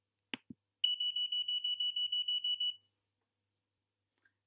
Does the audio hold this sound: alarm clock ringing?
yes